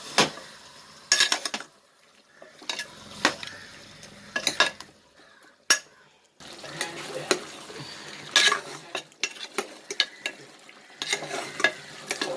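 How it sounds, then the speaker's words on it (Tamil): Country chicken being sautéed with masala in a pan, a sizzling fry broken by repeated sharp scrapes and knocks of a spoon against the pan, close and fairly loud, with a short quieter gap midway and no voices. "இந்த மசாலா சேர்த்து ஊற சிக்கனை நல்லா வதக்கிடணும்."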